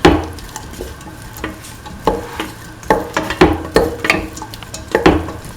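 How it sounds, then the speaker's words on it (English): Kidney beans and snake gourd sautéing in a pan bring a rhythmic run of spoon scrapes and clacks over a light sizzle, close and fairly loud, growing busier toward the end. "Keep on sauteing."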